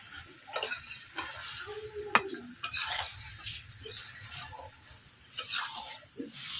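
Chicken stir-fried in a pan for Bengali chicken aloo jhol, soft sizzling under intermittent spoon scrapes and clinks against the pan, close and moderately quiet with no talk.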